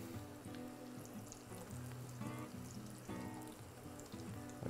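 Breaded broccoli florets deep-frying in hot oil for vegan hot wings, a steady close bubbling and sizzle with soft crackles throughout, no voices.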